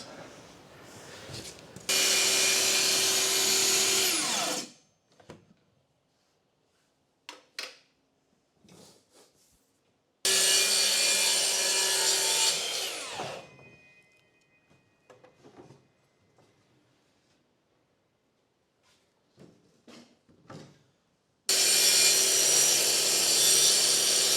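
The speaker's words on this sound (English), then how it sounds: "I'm using the track saw to cut the straight lines because a jigsaw is just always a little bit wobbly when you're doing straight lines." A track saw cutting straight lines in plywood for lining a 1975 Viscount caravan, heard as three loud whining bursts with quieter gaps of faint knocks and handling noises between them.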